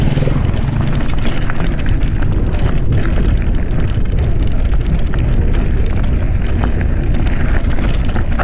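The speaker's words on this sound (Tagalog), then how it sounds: "So may ambon-ambon ng konti." Light drizzle falling on a mountain biking trail in the Philippines, a dense, steady hiss of rain with a constant low rumble and scattered ticks, loud and unbroken throughout, with no voices.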